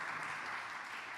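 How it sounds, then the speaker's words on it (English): Audience at the 10th HbbTV Symposium & Awards 2022 applauds a speaker coming to the stage, a steady, dense wash of clapping heard at a distance and fairly quiet. "a big applause"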